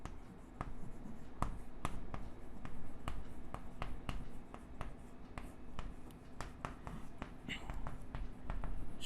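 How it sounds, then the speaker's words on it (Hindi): Chalk or marker scratching across a board during a biology lesson, with quick repeated strokes and taps spread steadily throughout, quiet and close against a low room hum. "तो यहीं पे लिख रहा हूँ"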